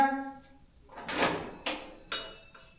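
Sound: new heavy iron temple door opening

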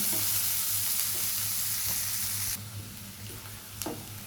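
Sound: chopped onions frying in pan

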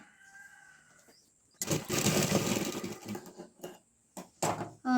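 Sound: sewing machine stitching a half-inch seam on cloth bag

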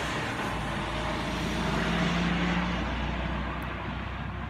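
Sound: truck driving past

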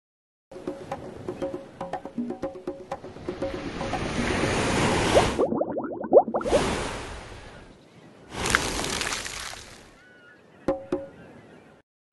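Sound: ocean waves

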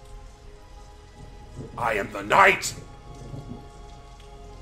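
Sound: rain in video game Batman: Arkham Asylum

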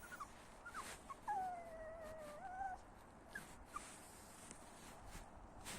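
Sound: puppy whimpering

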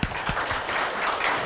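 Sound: audience applauding the developers

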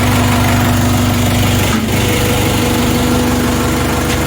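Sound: tractor engine running

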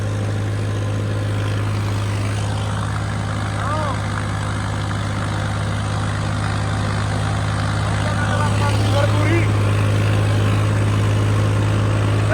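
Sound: Swaraj 855 tractor running, pulling two 8x8 disc harrows

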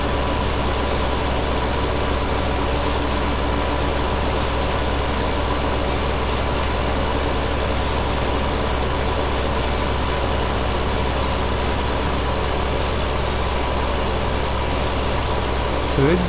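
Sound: tractor engine pulling silage wagon in Farming Simulator 15 video game

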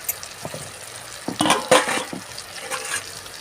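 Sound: chicken pieces frying in hot oil

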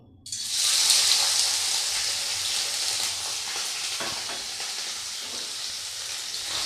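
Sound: paneer frying lightly in hot oil

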